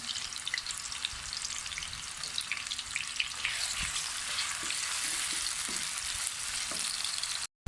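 Oil hisses and sizzles steadily as two medium chopped onions fry to light brown in a pan, with occasional soft stirring clinks, fairly quiet and continuous.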